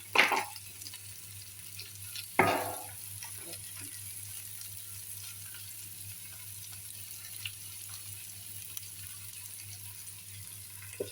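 Bitter gourd frying in mustard oil with green chillies and onion, a faint continuous sizzle broken by a couple of sharp clattering knocks early on.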